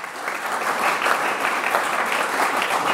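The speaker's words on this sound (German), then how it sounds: "das ist auch ein Applaus wert." Audience applause during speeches at a School on the Farm anniversary event in Kirchberg, a full, steady round of clapping from many hands, close and sustained throughout.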